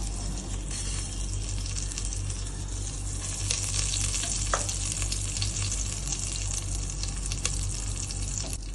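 Nigella seeds, fennel seeds and fenugreek seeds sizzle in hot oil as a Bengali tempering, a steady loud crackling fry that runs throughout with faint scraping of a spoon.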